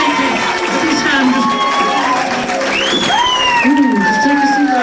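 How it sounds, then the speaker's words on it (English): Audience clapping and cheering for three hypnotized volunteers at a stage hypnosis show, a dense steady crowd roar with whoops and shouts throughout, voices rising over the applause. "give these people a round of applause"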